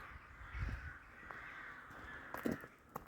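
Distant rooks above trees near a village caw continuously in a noisy cluster, with a few louder calls standing out and occasional low thumps nearby.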